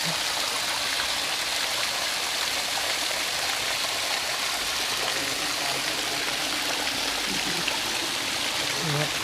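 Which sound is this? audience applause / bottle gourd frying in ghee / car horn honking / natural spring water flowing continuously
natural spring water flowing continuously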